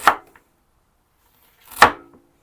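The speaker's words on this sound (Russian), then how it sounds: "Кубиком нарезаем, вот берем таким более крупным кубиком" A knife cuts ginger into larger cubes, two sharp, separate chops on a board about two seconds apart, close and clear with silence between.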